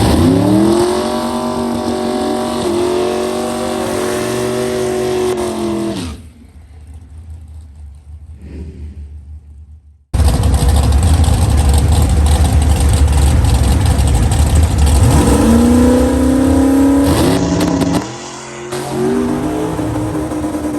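A race car on a test run revs hard through a series of rising gear pulls, drops away to near silence for a few seconds, then roars back loud and close, with engine rumble and shifts until the end.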